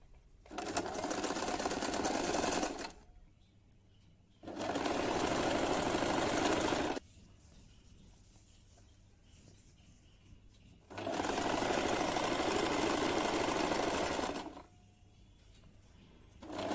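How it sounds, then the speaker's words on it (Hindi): A sewing machine stitches a woollen top for a young girl, whirring loudly in three separate bursts of two to four seconds each, with quiet gaps between runs and no speech. "अब मैं इसमें यहाँ पे सिलाई करूँगी।"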